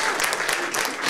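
Audience applause at a French civic gathering honouring the mayor and his team: a dense, steady wash of many hands clapping, fairly loud and close, lasting the whole moment without pause.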